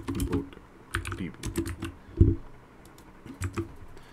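Computer keyboard keys clacking in quick irregular bursts while code is entered for a Flask web application, close and fairly quiet, with short pauses between clusters of keystrokes.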